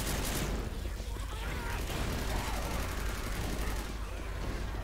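Dense incendiary-ammo gunfire in the zombie shooter Left 4 Dead 2, a loud sustained barrage of overlapping shots and bursts filling the whole stretch without a break.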